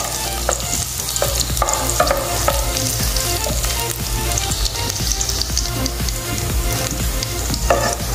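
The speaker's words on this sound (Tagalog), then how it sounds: "Lutuin lang natin ito hanggang sa mag-brown siya" Squid sizzles loudly in a hot pan for Filipino adobong pusit, with a constant crackling fry broken by scattered spatula clicks and scrapes, close up with no talking.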